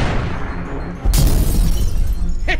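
A cartoon explosion of counterfeit mustaches bursts in with a sudden loud boom around the midpoint, then a crackling, shattering rumble that holds steady. No voices are heard.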